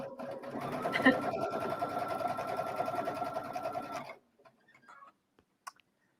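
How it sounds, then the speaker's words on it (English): A sewing machine runs a straight stitch on a pocket scarf, humming steadily for about four seconds before stopping, followed by a few faint, scattered clicks. "So we're just going to straight stitch this guy right here"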